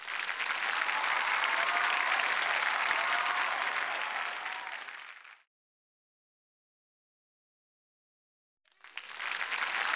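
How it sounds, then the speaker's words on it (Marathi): A studio audience at a Marathi comedy show breaks into loud, sustained applause for about five seconds, falls silent, then starts clapping again near the end. "जोरदार टाळ्या झाल्या पाहिजे सिद्धार्थ चांदेकर आणि स्पृहा जोशीसाठी"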